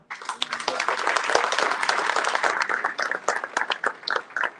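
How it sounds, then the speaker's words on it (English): A loud round of applause from a gala audience, many hands clapping in a dense, continuous patter that stays strong across the whole stretch, close and full. "please give them a loud round of applause"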